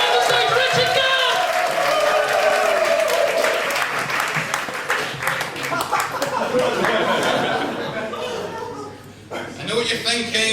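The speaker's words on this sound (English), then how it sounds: "Start a round of applause." An audience breaks into a sustained round of applause at a live stage comedy show, steady dense clapping mixed with crowd murmur and some voices throughout, tapering briefly near the end before swelling again.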